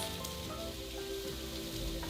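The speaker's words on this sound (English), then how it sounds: "I love a good sizzle, don't you?" Onions and fennel sizzle in extra virgin olive oil in a hot pot, a faint steady crackle and hiss with no talk.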